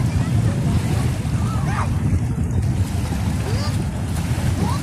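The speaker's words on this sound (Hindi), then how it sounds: "पानी की आवाज," Flowing current of the Ganga river at Bhara Ghat, Patna City, on a morning, heard as a steady, loud outdoor wash of water with wind buffeting the microphone and faint background voices and bird calls.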